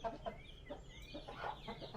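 A village hen clucks in short, repeated calls close by, fairly quiet, with rustling and faint bird sounds around it.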